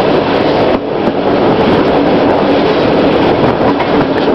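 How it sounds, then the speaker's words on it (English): A train rides along the rails with a loud, close, continuous rumble and rattle, heard from on board with no voices. "it's kind of exciting when you're riding the train"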